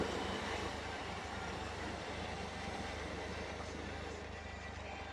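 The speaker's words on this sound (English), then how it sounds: "There's even two trains." Two trains passing through a city, heard as a low, continuous rumble some distance away with faint rhythmic clacks of wheels on track.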